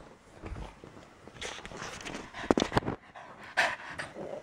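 A dog pants and walks close by, quick breaths mixed with soft paw steps and a few louder bursts, with no talk over it.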